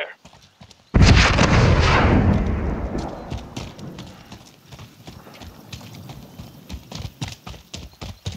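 Gunfire erupts in the video game Warzone: a sudden loud burst of shots with a booming echo, then rapid scattered pops and cracks that trail off over the following seconds.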